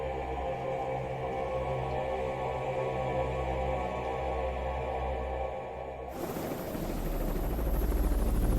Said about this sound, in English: Search and rescue helicopters are immediately dispatched from Coast Guard stations.